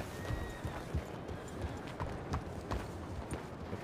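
Horse hooves clip-clop in a steady rhythm under a constant layer of background noise, fairly close and moderately loud.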